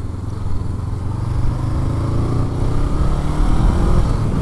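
A 2019 Honda CBR500R sports bike rides along with a steady, loud engine drone and wind rumble that build slightly over the stretch, heard up close with no talking.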